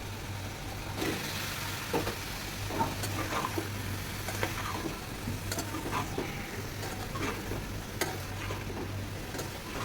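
Sweet pumpkin pieces fry in oil in a pan alongside fish curry, giving a faint, continuous sizzle with occasional soft scrapes and taps of stirring, with no voices.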